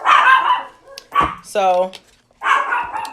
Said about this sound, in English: They see everything and anything, and they want to bark.